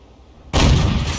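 A World of Tanks tank gun fires once, a sudden loud blast that cuts in after a quiet moment and rings out in a broad, sustained roar.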